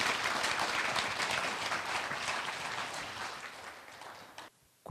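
Concert audience applause before a song at a Korean church praise concert, a full, dense round of clapping that holds steady and then cuts off abruptly near the end.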